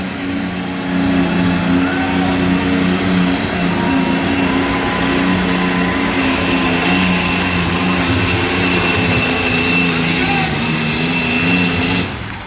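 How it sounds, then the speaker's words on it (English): A heavy tractor engine drones loud and steady under strain for several seconds at a tractor competition, holding a constant roar before cutting off abruptly at the end. "he's gonna have to crank it up a lot to beat that American tractor"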